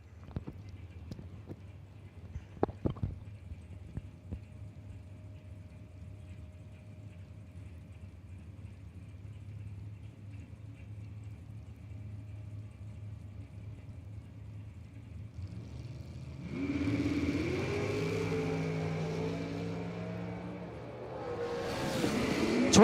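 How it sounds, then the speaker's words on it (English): An '84 Camaro and an '84 Corvette in a bracket drag race at a strip: a low engine rumble with a few sharp clacks, then a loud roar swells as the cars launch and another rises at the end. "Next pair, Michael Reginello, left lane, 84 Camaro, dial 602"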